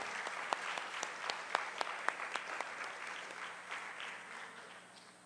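Applause from a modest audience at a book presentation, distinct claps ringing out at first and then thinning and fading over a few seconds, somewhat distant.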